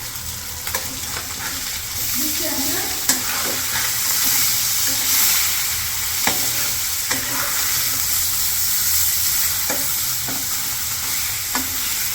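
Fish frying in spiced oil in a home kitchen, a steady, loud broadband sizzle running throughout, broken by occasional sharp crackles and pops and soft stirring scrapes; no one speaks.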